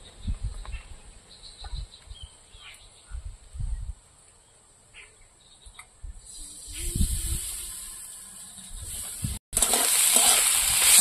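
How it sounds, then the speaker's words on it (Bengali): Mung dal lightly dry-roasting in a kadai for Gobindobhog rice khichuri: soft stirring scrapes and faint crackle early, then a louder steady hiss and sizzle building in the second half, close and without talk. "এবার আমি একটু হালকা করে মুগ ডালটা ভেজে নেব।"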